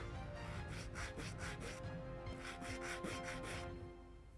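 A sanding block rubs back and forth over wooden parts of a 1620 Mayflower ship model kit, in steady rhythmic strokes, close and quiet, with a short pause midway before the strokes resume and then fade.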